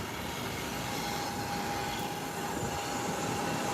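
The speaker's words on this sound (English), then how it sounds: "And here comes the jets taking off. Now tunneling down the runway." Jets take off down a runway with a steady, far-off engine roar that holds at an even level throughout, with no talking.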